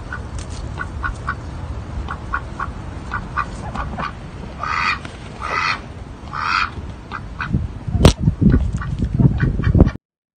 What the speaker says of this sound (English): check out this video of this crazy bird